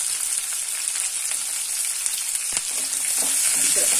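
Tomatoes frying in a pan for a simple chicken gravy, an even hissing sizzle close by with a few stirring taps, growing slightly louder toward the end.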